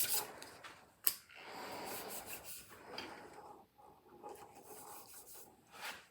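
Fine-grit sandpaper rubbing over a wooden pen blank, giving close, dry rasping strokes in an uneven rhythm, with one sharp knock near the start and no talking.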